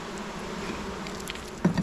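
A soft, continuous hum of honey bees buzzing close by at a beehive, with a brief rustle near the end.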